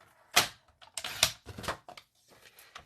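Cardstock being trimmed for a card front on a paper trimmer, heard as a few close, crisp slicing and clacking strokes with short scraping bursts in between, quiet and without talk.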